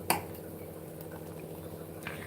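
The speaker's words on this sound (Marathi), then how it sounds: "तर छान उकळी फुटली आहे याला." Kadhi curry boiling in a pot, a soft continuous bubbling with small pops and drips, close but fairly quiet.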